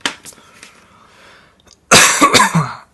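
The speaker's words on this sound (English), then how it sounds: "I have allergies, so I'm going to cough a lot." A person with allergies gives a faint throat clear and a few small coughs, then breaks into a loud burst of harsh coughing close to the microphone.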